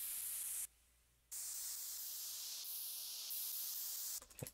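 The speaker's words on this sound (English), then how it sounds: "Just straight up white noise, yeah." Plain synthesized white noise from an FL Studio EDM track, a steady broadband hiss that cuts out briefly near the start and returns, ending in a few clicks; no voices.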